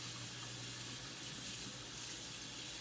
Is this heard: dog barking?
no